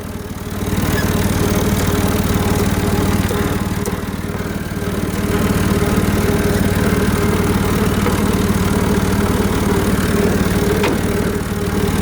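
A tractor engine idles steadily close by, a constant low rumble with a rhythmic throb that continues throughout.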